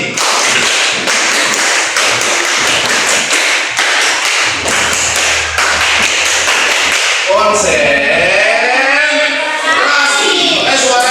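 A group of children in an Indonesian classroom claps the 'tepuk konsentrasi' clapping game in quick rhythmic bursts, sharp and close, with children's voices chanting and speaking toward the end.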